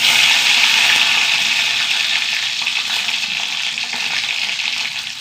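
Dried red chillies, mustard seeds and fenugreek frying in hot oil for a curry tempering, a steady loud close-up sizzle with crackling that holds evenly and eases slightly toward the end, no voices.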